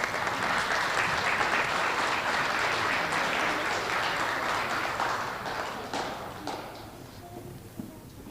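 A crowd at an elementary school assembly applauds students of the month, the clapping strong at first and then thinning out to scattered claps toward the end.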